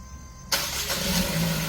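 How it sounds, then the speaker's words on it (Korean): A 2012 Renault Samsung New SM5 LPI with an intermittent stalling fault cranks and catches, a sudden loud engine start breaking the quiet after half a second and then running on as a steady close rumble. "전원 살아났고, 시동 걸어."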